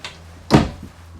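A small decorative cabinet door inside a Cougar 29FKD RV shuts with a single short, solid thunk, alone in a quiet interior.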